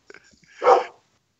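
A guide dog gives one short, fairly loud bark up close, preceded by a few faint soft noises and followed by quiet.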